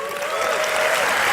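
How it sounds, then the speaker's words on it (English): An audience in Thousand Oaks applauds Jordan Peterson, a dense, steady wash of clapping that holds strong and close for the whole brief stretch, with a faint tone running beneath it. "have another continued round of applause for the send-off for Dr. Jordan Peterson."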